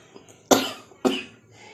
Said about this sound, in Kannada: ಈಗ ಒಂಚೂರು ಬಂತು ಕೆಮ್ಮು